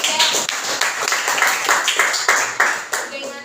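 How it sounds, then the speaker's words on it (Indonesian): A class claps for a student group during a classroom teaching session, a steady patter of many hands applauding close by for a few seconds with overlapping voices underneath. "Berikan tepuk tangan untuk kelompok 3."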